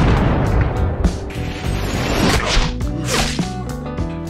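A sniper rifle shot fired in a film, a sharp crack that lands amid a dense cinematic score with booming hits and whooshes throughout.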